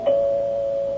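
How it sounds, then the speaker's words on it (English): An apartment doorbell rings with a single clear electronic tone that starts sharply and rings on steadily for about a second, close and loud, with no voices. "Finally, the doorbell rang."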